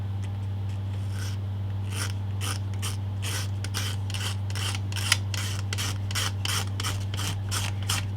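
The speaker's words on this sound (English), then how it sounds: "I'm scraping that paint off the edge of the boards." A blade scrapes dry paint off the edges of wooden boards in rapid, regular rasping strokes, close and fairly quiet over a steady low hum.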